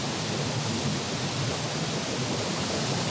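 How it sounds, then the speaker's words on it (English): A big waterfall with a great volume of water crashing down makes a steady, dense, close roar of rushing water, unbroken and without any talking. "A lot of water coming down here. That's a big waterfall."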